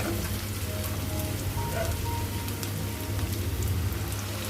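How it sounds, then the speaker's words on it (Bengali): Chopped onions frying in oil in a wok for a pangas fish curry, a continuous loud crackling sizzle with no talking. "এবার কড়াইয়ের মধ্যে আমি কেটে রাখা পেঁয়াজগুলোকে দিয়ে দেবো, দিয়ে ভালো করে ভেজে নেব।"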